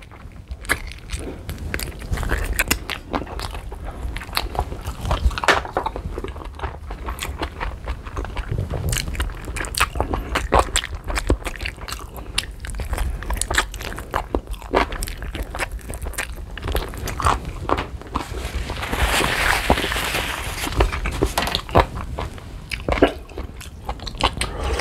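Close-up biting and chewing of whole chicken adobo with chilies, a steady run of wet, crunchy mastication sounds with occasional louder bites throughout.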